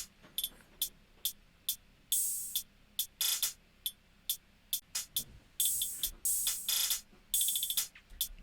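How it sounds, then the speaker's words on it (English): Layered hi-hat samples from an electronic track, several layers placed differently across the stereo field, tick and hiss in a busy syncopated pattern with some longer open sizzles, loud and up front, no voices. "We got hi-hats. Let's have a listen."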